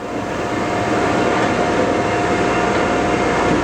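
Hydraulic cross slide moving on a 16 x 40 Chevalier precision surface grinder: a steady, loud, broadband mechanical rumble and hiss with a faint constant whine, unbroken throughout and with no talk.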